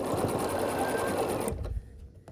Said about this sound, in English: we're just gonna sew our pieces into the appropriate spot